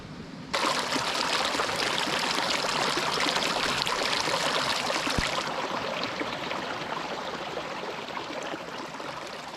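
Caples Creek runs past a backpacking camp in Eldorado National Forest as a loud, steady rush and babble of flowing water. It starts abruptly and holds evenly throughout with no voices.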